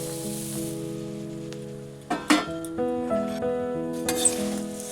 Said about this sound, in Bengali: তেলের সঙ্গে মুড়িটাকে ভালো করে আমি মিক্সড করে নিব